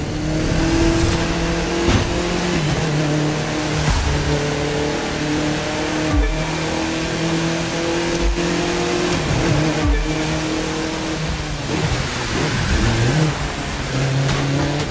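Audi TT-RS revving hard during a street race in The Crew 2, its engine a loud, continuous roar with layered harmonic whine that rises and dips in pitch through gear changes, with no talking.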